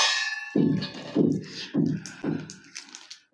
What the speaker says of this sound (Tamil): ஸோ ஃபர்ஸ்ட் அந்த டாப் லிட்டு அடி பார்ப்போம். சவுண்டு சூப்பராக கேட்குது.